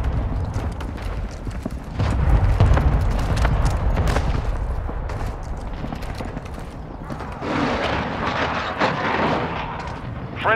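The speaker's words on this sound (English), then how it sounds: "Friendly cruise missile deployed" Call of Duty: Modern Warfare 2 ground war battle with cruise missile strikes, a chaotic mix of rumbling booms and rapid crackling gunfire, dense and loud, swelling again near the end.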